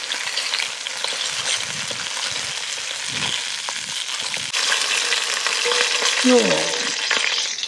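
Shallots, celery, mushrooms and carrots frying in a pan over charcoal in an outdoor kitchen, a steady loud sizzle that swells as the vegetables go in, with stirring scrapes and a brief spoken word.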